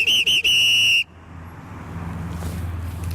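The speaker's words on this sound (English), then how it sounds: "I've blown my whistle." Three sharp, loud blasts from a police officer's whistle, aimed at speeding drivers, ring out in quick succession near the microphone, followed by passing traffic noise.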